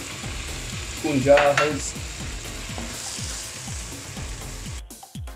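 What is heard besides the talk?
spiced meat frying in a pot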